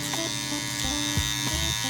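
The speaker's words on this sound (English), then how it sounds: "I want to go about half of that with the shaver." An electric shaver buzzes steadily while cutting hair for a taper fade, a close, continuous whirring hum with small shifts in pitch as it moves against the head, and no talk.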